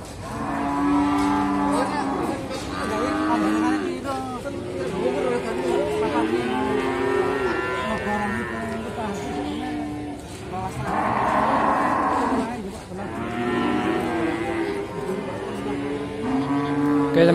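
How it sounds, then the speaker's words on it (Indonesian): A Simmental calf at a livestock market moos loudly and repeatedly, with long drawn-out calls over steady crowd chatter and other cattle nearby. "review sapi simental yang ada di depan saya ini"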